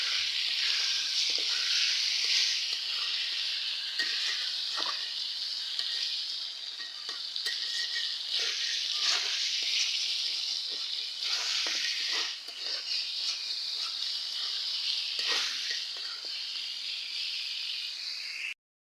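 Meat curry with green chilies fries in a pan, giving a steady close sizzle throughout, with intermittent stirring clicks and scrapes and no talking.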